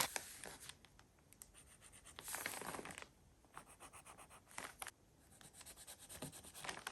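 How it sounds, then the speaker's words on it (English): A pencil scratches and rubs across paper in short bursts of strokes, close and quiet, with brief pauses between scribbles and no talking. "I think it's easier to draw with the pencil on this side rather than the acetate"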